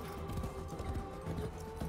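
Hooves of a galloping horse in the video game Warframe clatter in quick, continuous clip-clop over a low droning game soundscape, with a faint whinny-like tone mixed in.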